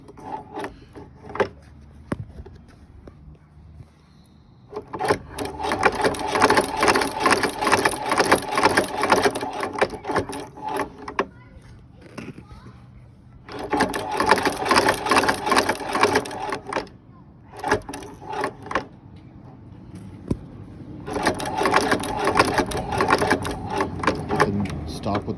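A Chinese shoe patching sewing machine runs in several bursts of rapid rattling stitching separated by pauses, with someone talking between the runs.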